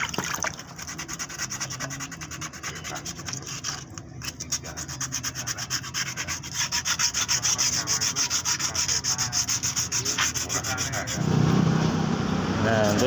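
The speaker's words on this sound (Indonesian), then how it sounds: "untuk sementara kita gosoi saja semuanya seperti ini biar halus" Hand sanding of a freshly painted motorcycle body panel at a roadside paint shop, a steady continuous rasping rub that runs throughout, close and fairly loud, getting slightly heavier near the end.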